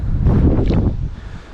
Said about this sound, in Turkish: Bu arada gene rüzgar çıktı.